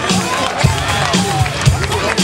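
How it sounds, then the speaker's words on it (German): An audience at an outdoor trend sports and BMX show in Braunschweig applauds a rider, a dense, steady wash of clapping and crowd noise filling the whole stretch with a few low thumps underneath. "Macht man Applaus für Marc König!"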